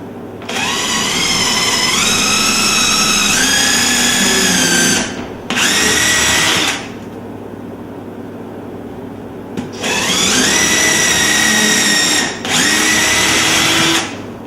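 A power drill bores holes for cabinet hardware in two loud bursts, each made of a rising whine, a short pause and a second run, with quiet gaps between the pairs.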